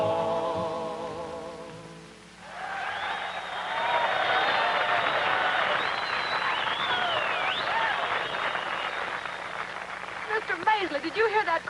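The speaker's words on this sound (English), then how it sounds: "did you hear that crowd cheering?" A rodeo show crowd cheers and claps in a big swelling roar that rises after a brief musical lead-in and holds steady before a voice begins to speak.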